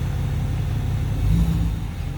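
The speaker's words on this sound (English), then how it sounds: "I'll still let you listen to the exhaust" A 2016 Ford F350 King Ranch pickup rumbles with a deep, steady exhaust note, swelling briefly in a mild rev before settling, loud and close with no voices.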